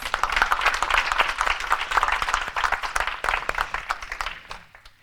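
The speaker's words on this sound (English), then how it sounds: "Let's give her another round of applause." Round of applause from a panel audience, a dense, even wash of clapping that holds steady, then thins and fades out toward the end.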